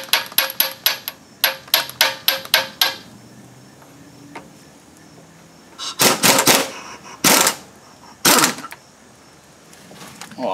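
Impact wrench zipping four 19 mm lock nuts off the spindle of a Kuhn GMD 500 disc mower: a quick run of rattling hammer bursts, then several longer loud hammering bursts separated by pauses, close up with no talk.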